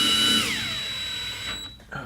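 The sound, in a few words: screwdriver driving ground screws into a board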